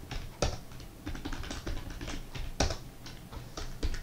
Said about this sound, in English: and going to enter a password